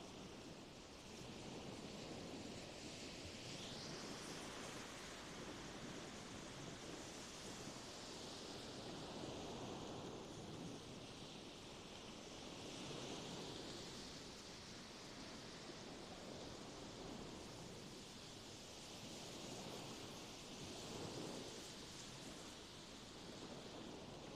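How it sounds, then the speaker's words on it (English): Sea waves roll onto the beach at Fehmarn in a steady broadband wash, swelling and receding gently over about twenty seconds, with faint wind noise and no voices. "I feel it ruins the nice sound of the waves"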